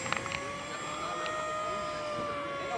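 A HobbyKing Durafly Tundra 1300mm STOL RC bush plane's engine whines with a steady, high-pitched drone that holds its pitch, heard from a distance over faint background noise.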